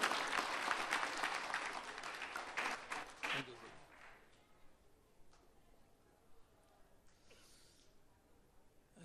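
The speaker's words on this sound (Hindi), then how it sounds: "ताली बजा के जरा इनका स्वागत करिएगा" Applause from a seated audience at a Sunday feast lecture welcoming a speaker: a burst of clapping that fades out after a few seconds, followed by quiet room tone with faint stray sounds.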